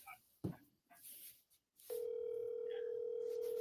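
A steady telephone dial tone comes on abruptly partway through a recorded phone call and holds level and clear to the end, after a few brief faint clicks and rustles.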